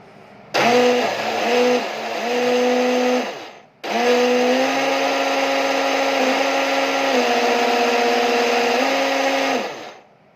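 An RC boat's propeller motor gives a steady high-pitched whir running almost continuously, pitch shifting briefly as it surges, with a short dropout partway through; loud and close, no talking.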